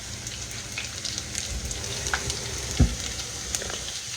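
Hush puppies frying in really hot grease make a dense, continuous crackling sizzle, close and steady, with one brief thump partway through.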